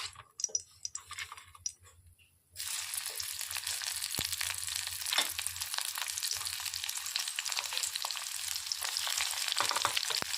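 Onions and two bay leaves hit hot oil left from frying pointed gourd and potatoes. After a few quiet clinks, a sudden loud sizzle starts and holds steady and close, crackling to the end.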